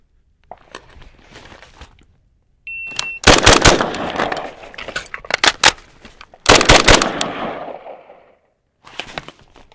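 An IWI Tavor X95 bullpup rifle fires a close, loud string of sharp shots right after a shot timer's thin electronic beep, the cracks arriving in quick bursts, then a brief pause and a final pair of shots.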